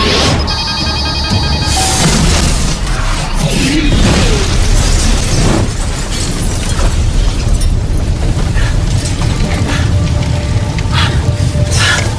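Loud, continuous booming and crashing noise from a film explosion with debris, dense and rumbling throughout, with no voices.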